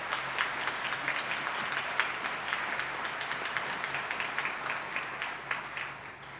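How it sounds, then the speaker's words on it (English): An audience applauds faculty standing at a 2021 winter college commencement ceremony in Albany, New York, a steady wash of many hands clapping, moderately distant and even throughout. "I would like to invite that faculty to stand and receive a round of applause"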